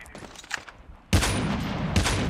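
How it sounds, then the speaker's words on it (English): Sniper shots and gunfire ring out in a first-person shooter game, starting faint then erupting into a loud, sustained burst of overlapping shots and impacts about halfway through. "someone's sniping me"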